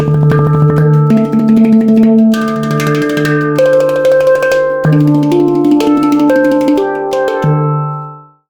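Fast rolls on a handpan, rapid strokes blending into shimmering sustained tones that step between several notes, loud and close, with a final ringing note fading out.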